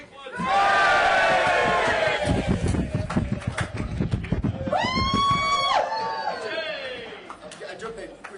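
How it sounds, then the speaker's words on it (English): A crowd at a Reform UK political rally gives a loud collective cheer with shouts and whoops that swell and hold for several seconds, while scattered voices and laughter come through. "Give us a 1, 2, 3 cheer."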